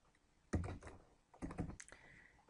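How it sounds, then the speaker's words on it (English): Keys clatter on a computer keyboard as a line of C# code is typed, two quick close bursts of clicks separated by a short pause. "So just type in return BMP screenshot."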